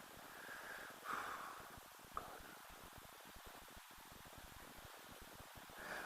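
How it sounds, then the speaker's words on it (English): Steady rain falling outside a garage during a classic Aston Martin DBS V8 restoration, a faint continuous hiss and patter with a few soft knocks nearby, no talk. "you can hear the rain never stopping outside"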